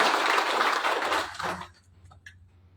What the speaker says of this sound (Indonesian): Sekali lagi mari kita berikan aplaus yang baik.